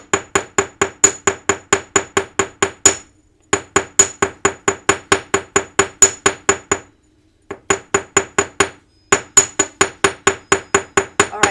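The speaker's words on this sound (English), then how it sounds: "Now I'm not using this end of the chasing hammer because it basically really flattens it" A chasing hammer strikes metal in quick, even bursts of sharp ringing taps, about a dozen blows per run separated by brief pauses, loud and close with no talking.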